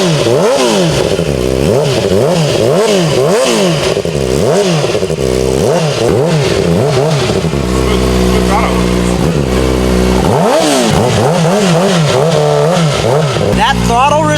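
A Kawasaki Ninja ZX-4RR with a full titanium exhaust revs hard and repeatedly, loud and close, the engine note climbing and dropping in quick throttle blips, with brief excited voices over it.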